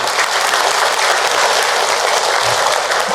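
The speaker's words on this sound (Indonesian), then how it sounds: "Tepuk tangan buat kita semua" A religious lecture audience claps at a Ramadan talk, giving loud, dense, continuous applause that fills the whole moment without a break.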